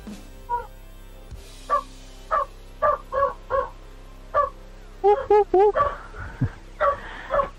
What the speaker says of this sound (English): The dog is barking again.